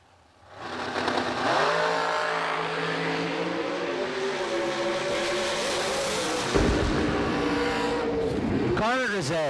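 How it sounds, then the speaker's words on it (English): Blonde dragster launching and racing down a drag strip, a loud engine roar with rising and shifting tones that builds quickly and holds near and strong before trailing off at the end. "Courtney's brother, Connor Grisey, with the other blonde dragster, dialed in 424."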